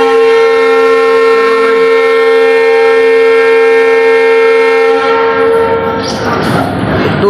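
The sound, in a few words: Kamrup Express train departing from the station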